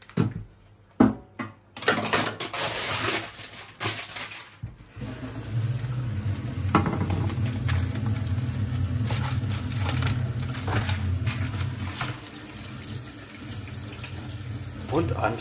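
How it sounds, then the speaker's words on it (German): A kitchen tap runs steadily into a sink as salmon fillets are rinsed, with a few clunks and handling knocks early on before a continuous close gush of water. "Der Lachs kommt in eine Auflaufform und wird zuvor gewaschen."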